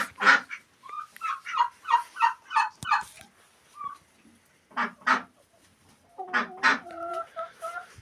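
Chickens and hens cluck in a farmyard, a rapid run of close, loud clucks followed by scattered calls and then a short series of higher, tonal hen squawks near the end.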